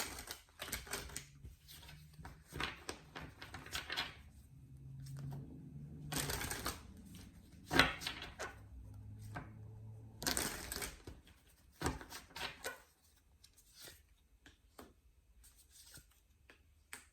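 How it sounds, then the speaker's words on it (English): Tarot cards being shuffled produce soft, close riffling and flicking bursts with quiet gaps between them, faint and without speech. "I'm going to shuffle and pull a couple more cards for the outcome here"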